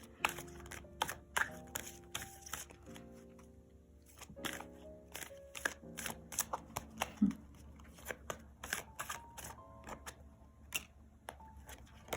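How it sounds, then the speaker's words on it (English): A deck of oracle cards is shuffled in a long run of quick, crisp riffling and tapping bursts, close and fairly quiet, with no talking. "let's get advice from Spirit. Let's pull some cards on that."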